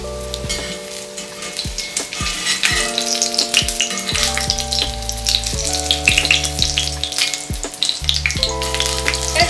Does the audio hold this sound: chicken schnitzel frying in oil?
yes